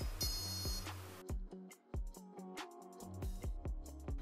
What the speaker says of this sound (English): after you get 2 beep sounds